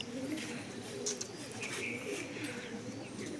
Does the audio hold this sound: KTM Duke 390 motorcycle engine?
no